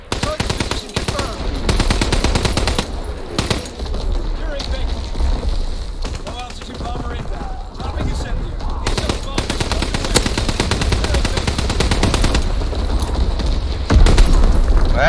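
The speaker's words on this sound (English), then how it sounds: "Here comes the bombing run." Call of Duty WW2 multiplayer under a bombing run: dense machine-gun fire and repeated explosions roar loud and almost continuously, with brief dropouts and a heavy boom near the end, while someone talks over the chaos.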